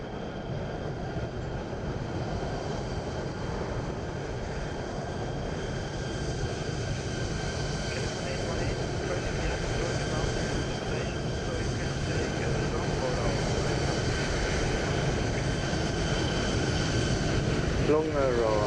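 A KLM airliner landing and rolling out at Frankfurt in Microsoft Flight Simulator 2020, a continuous loud roar of jet engines and rolling wheels sustained throughout, with a voice talking over it.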